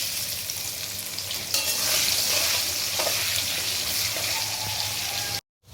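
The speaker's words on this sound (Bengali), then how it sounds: "এবার আমরা একটু পেঁয়াজটাকে ব্রাউন কালার করে ভেজে নেব।" Onions frying in a pan until browned for chicken biryani, a steady loud sizzle with occasional stirring scrapes, cutting off abruptly near the end.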